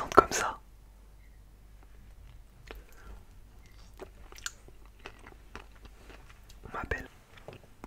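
Dragon fruit being bitten and chewed close up, soft wet crunches scattered over several seconds with a louder bite near the start and another near the end, alongside quiet whispering.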